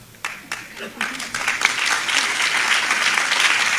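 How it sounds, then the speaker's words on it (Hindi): Audience applause at a deputy commissioner's public speech launching a drug-free campaign in Sirsa, starting as scattered claps and swelling into sustained, dense clapping from a large crowd. "इसलिए मैं अपना कार्य आरंभ करने से पहले ताली बजाना सिखाता हूं।"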